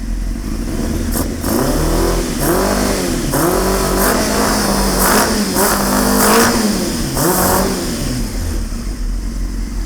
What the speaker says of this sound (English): I'll take it up the RPMs a little bit. You can get the exhaust note.